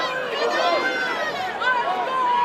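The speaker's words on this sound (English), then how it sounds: "Listen to this crowd here" A wrestling event crowd roars continuously in an arena, a dense wall of cheering and chanting voices with shrill whistles and shouts rising over the din.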